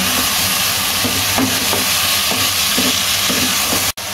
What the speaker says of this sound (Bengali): এবার আমি খুব ভালোভাবে এটা কষাই নেব।